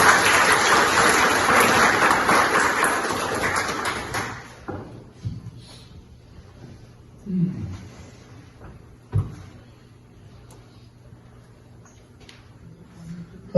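Applause from an audience at a book appreciation ceremony, dense and steady for about four seconds before cutting off, followed by quiet room noise with a few faint knocks.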